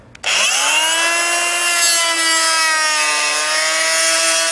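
A power tool cuts out old, hardened pool joint sealant, starting abruptly with a loud, steady tonal whine held for several seconds at close range, with no talking.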